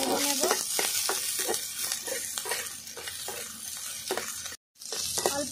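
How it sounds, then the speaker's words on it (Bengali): Chopped onion and green chili fry in hot oil in a pan, a steady loud sizzle broken by regular scraping stirs about every half second, with one brief dropout near the end. "এবার পেঁয়াজ আর লঙ্কাটা দিয়ে দেবো, পেঁয়াজ লঙ্কাটাও ভালো করে একটু ভেজে নেব"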